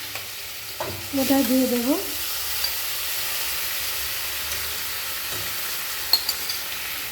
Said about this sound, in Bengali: এরপর চিকেন কিমা এই গরম তেলের মধ্যে দিয়ে দিলাম